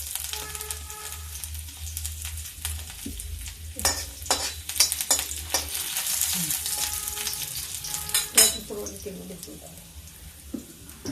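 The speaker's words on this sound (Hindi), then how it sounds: "फिर ये देखिए मेरी कढ़ाई हो चुकी है, इसमें मैं डाल देती हूँ लहसुन" Garlic sizzles as it fries in hot oil in a kadhai, with crackling bursts and stirring clatter rising over a low steady hum, loudest in the middle of the clip.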